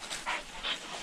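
A hunting dog pants rapidly in short, breathy huffs during an agouti hunt in Trinidad's forest, close to the listener and alone for about a second.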